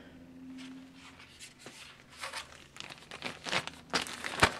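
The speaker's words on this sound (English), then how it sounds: "Also comes with a plastic bag." A plastic bag from a Norwegian Arctic field ration crinkles and crackles up close in irregular bursts, growing busier and louder toward the end.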